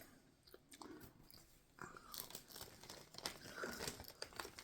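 Close, crisp bites and crunching chews into a fresh fruit, several crackly snaps and wet crunches in quick succession, heard alone without talking.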